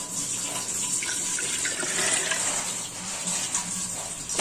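Water pours from a tap or cup into an electric kettle with citric acid for descaling, a steady splashing gush close by that swells and settles over a few seconds with no talk.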